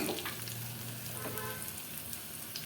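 Chicken coated in ginger garlic paste fries in oil until brown, giving a steady, close, broadband sizzle that holds at an even level throughout with no pauses.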